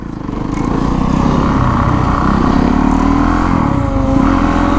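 A motorcycle rides in first gear while braking, its engine a loud, steady nearby drone that rises and holds with a slight dip near the end, with no talk.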